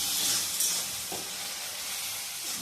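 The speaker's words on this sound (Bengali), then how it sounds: "এরপর আমি ওগুলোকে কষতে থাকবো" Kashmiri red chili and ground cumin sautéing in a pan with fish-head moong dal, a steady soft sizzle and hiss with faint stirring, close and alone with no talk.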